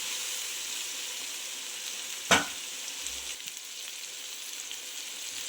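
Village-style chicken curry with cinnamon and cloves frying in a pan, a steady soft sizzle broken by one sharp scrape or clank of the stirring spoon, close and fairly quiet, with no voices.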